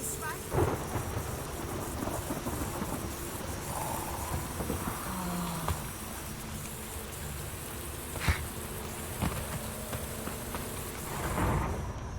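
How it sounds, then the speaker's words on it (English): Steady rainfall with repeated rolls and cracks of thunder, some distant and some sharper, continuing throughout without speech, in the video game The Witcher 3. "Raining again."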